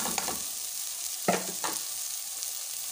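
Cabbage and onion fry in a hot pan while being stirred, a soft steady sizzle with a couple of sharper scraping stirs partway through, close and alone with no talk.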